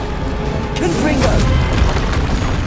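A Confringo blasting spell in Hogwarts Legacy bursts with a short booming explosion and crackling debris, set over constant game music and effects.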